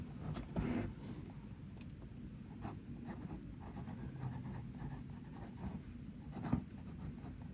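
A Kaweco Original 250 fountain pen with a larger fine steel nib writes on paper, giving a soft, continuous scratchy scratching with occasional firmer strokes, close but quiet.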